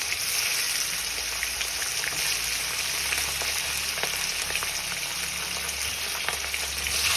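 Hilsa fish heads fry in hot oil in a wok with black cumin and five-spice, giving a loud, steady crackling sizzle with occasional pops and stirring scrapes.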